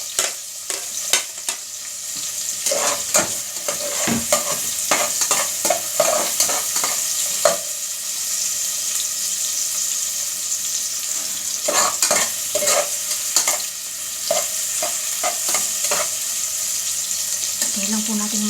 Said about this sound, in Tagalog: Kaya lang po natin maluto yung ating onion at garlic.